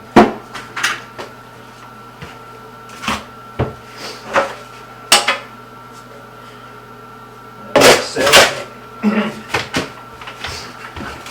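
A trowel scrapes and clinks against a mud pan while drywall mud is worked for a tub surround, a series of sharp metallic scrapes and taps in irregular bursts over a low steady hum, close by.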